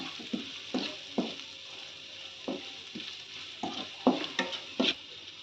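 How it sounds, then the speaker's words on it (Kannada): Pudina (mint) masala for puffed-rice mandakki fries in a pan under a soft steady sizzle, while a spoon scrapes and stirs in about a dozen distinct close strokes, with no talking. "ಇದು ಇವಾಗ ಚೆನ್ನಾಗಿ ಫ್ರೈ ಆಗಿದೆ ಇನ್ನೊಂದು ಎರಡು ನಿಮಿಷ ಇರಲಿ"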